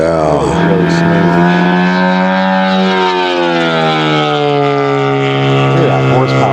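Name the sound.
giant scale F8F Bearcat RC airplane engine running smoothly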